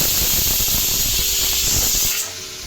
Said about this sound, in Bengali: সব গুঁড়ো মশলা দিয়ে ভালো করে কষিয়ে জল দিয়ে নিলাম